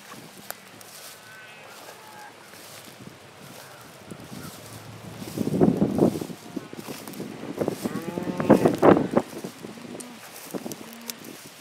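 Several deep cow moos, some overlapping, close by as cows meet goats, over a quiet outdoor background with light rustling; the lowing swells in the middle and returns later.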